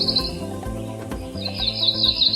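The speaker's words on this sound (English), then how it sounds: "Cerulean, the cerulean warbler." Cerulean warbler song: high buzzy bird phrases recurring over a busy lower background, fairly clear and close, with no voices.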